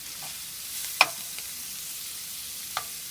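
Garlic sizzling softly in a hot pan, with a steady frying hiss and a couple of sharp clinks from stirring.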